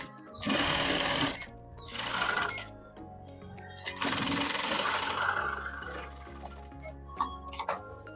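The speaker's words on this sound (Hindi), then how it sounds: "ये हमने ऊपर से और एक सिलाई लगा दी है।" A sewing machine stitches a sleeveless princess-cut blouse in three close, whirring runs of about a second or two each, separated by short pauses and a faint ticking.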